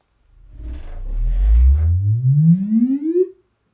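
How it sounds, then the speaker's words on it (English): A loud rising frequency-sweep test tone plays through a subwoofer during an REW measurement, a deep rumble gliding smoothly upward in pitch over about three seconds with audible harmonics, then cutting off abruptly; the comparison pits an SVS PB16 against a PSA S3611. "So that was the first frequency sweep."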